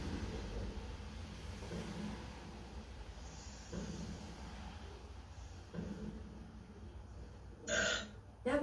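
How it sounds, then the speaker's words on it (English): A dinosaur burp sound effect played by an Alexa smart speaker: a low, rumbling, snorting belch that rolls on for several seconds, then a sharper burst near the end. "That was a dinosaur burp."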